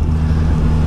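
Suzuki GSX-S 1000 2021 four-cylinder engine pulling gently from low revs, a steady deep drone up close, brief and without talk.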